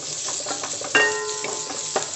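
Finely chopped ginger fries in a pan with a bright, steady sizzle, broken by a few sharp stirring clinks of a spoon against the metal.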